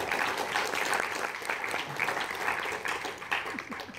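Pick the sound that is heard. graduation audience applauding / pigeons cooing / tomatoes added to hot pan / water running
graduation audience applauding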